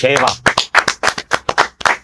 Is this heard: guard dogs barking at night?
no